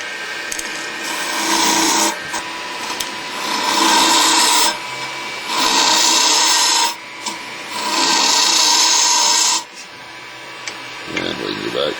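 Wooden acorn being hollowed on a lathe during woodturning, a tool scraping the inside in four loud, steady bursts of rasping cut, each about two seconds long with short pauses between, close up and alone.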